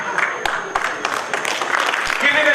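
A round of applause from a small meeting audience at a Toastmasters club session, brief scattered clapping with a few sharp individual claps, mixed with talking voices.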